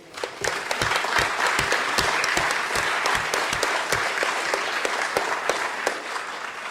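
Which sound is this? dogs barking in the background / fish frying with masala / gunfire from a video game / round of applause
round of applause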